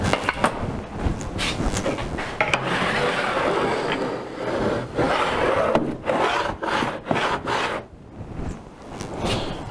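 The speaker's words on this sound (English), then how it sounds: "So this is ripping with a Dewalt radial arm saw." A Dewalt radial arm saw rips through wood, giving a rough, rasping cut with uneven surges and short breaks, close and loud throughout.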